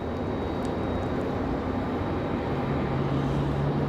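A jet airliner taxis at Raleigh Durham airport, giving a steady, distant engine rumble and whine under broad background noise that stays constant throughout.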